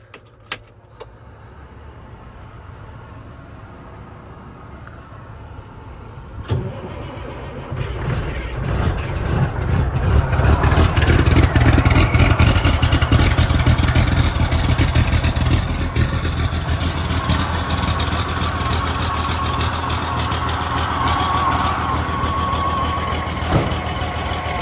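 A 12.7-litre Detroit diesel engine cold-starts in 25-degree weather after a jangle of keys, catching around six seconds in and settling into a loud, steady, rumbling idle close by.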